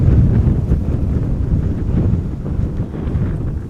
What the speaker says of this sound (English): I get the feeling that the wind is picking up a little bit.